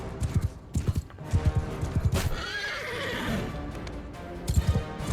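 In the Mount & Blade 2 video game, a horse gives a loud whinny amid clusters of clip-clopping hooves, with battle noise in the background.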